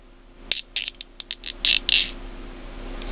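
A Joker Batman folding knife's spring mechanism gives a series of short, close clicks and creaks as the blade swings out, with the spring seeming to catch.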